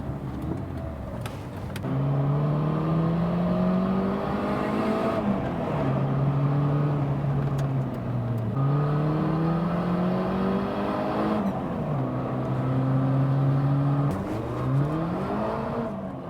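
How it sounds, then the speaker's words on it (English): A 4WD Mitsubishi Mini Pajero driving, its engine droning steadily and rising in pitch through repeated gear changes, with short dips between shifts, heard from inside over about sixteen seconds with no talking. "Got to take it for a drive now."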